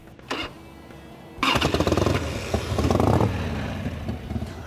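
A 1990 Harley-Davidson FXR motorcycle engine starts after a short crank, then idles and revs with a loud, lumpy, clattering rumble close by.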